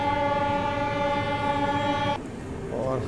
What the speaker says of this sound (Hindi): और हमारी मुलाकात हुई है वैक 12 लोकोमोटिव से।